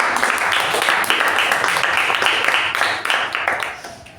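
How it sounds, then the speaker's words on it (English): Applause from members at a Toastmasters club meeting: a brisk patter of many hands clapping, fairly loud at first and tapering off toward the end. "For that, a big round of applause to Toastmaster Lalana."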